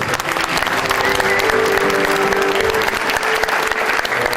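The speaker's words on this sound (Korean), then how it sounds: "큰 박수로" Loud, dense applause fills a hall at an architecture department's 40th anniversary gathering, continuous crowd clapping holding steady throughout with a faint murmur underneath.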